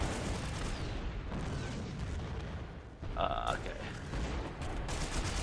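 Distant booms and bursts of gunfire from grenade launcher combat in the military shooter game Joint Operations, a continuous rumbling barrage with a brief clatter midway and a short spoken word.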